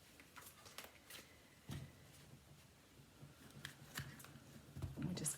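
Quiet riffling and soft slaps of a Rider-Waite tarot deck being shuffled by hand, close and faint, in several short bursts with pauses between.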